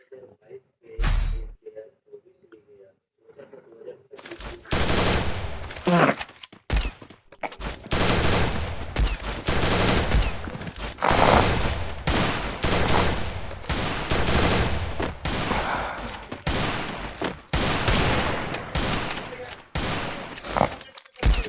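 Rapid bursts of gunfire from the Free Fire battle royale game during an esports match, including sniper shots, crackling in dense repeated volleys with short pauses, mixed with commentary speech.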